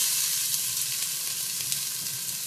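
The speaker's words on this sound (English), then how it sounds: "I put the oil into the pan. Now I'm going to put the onion and the garlic in." Onion and garlic fry in hot oil in a pan, giving a continuous fairly quiet crackling sizzle with faint stirring bumps.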